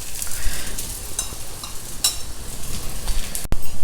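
Millet dosa batter sizzling on a hot griddle with a few drops of oil drizzled around it, a steady broadband crackle with small spatters and one faint click near the end.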